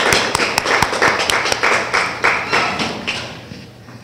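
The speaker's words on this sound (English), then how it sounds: "Let's start clapping for them." Audience applause at a university community symposium, a steady patter of many hands clapping with irregular sharp claps standing out, gradually thinning toward the end.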